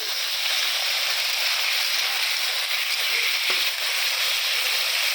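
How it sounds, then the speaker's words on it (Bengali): Meat and cauliflower fry together in a pan, giving a dense, even sizzle that holds steady throughout, with one brief soft knock partway through. "ফুলকপিটা দিয়ে দিচ্ছি, মাংসের সাথে ভাজা ভাজা হচ্ছে"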